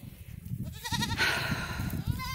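Several farm goats bleat in short, wavering cries close by, one call overlapping another within a couple of seconds.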